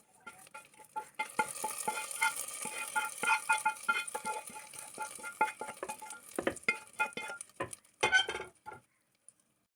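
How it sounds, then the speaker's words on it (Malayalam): Yam curry with tempering and fried coconut is stirred in a pot, producing close, soft scraping and light clinks in an irregular rhythm over a faint sizzle, tapering off into quiet at the end. "താളിച്ചതെല്ലാം ചേർത്ത് കൊടുത്തിട്ട് കറി ഒന്ന് ഇളക്കി കൊടുക്കാം"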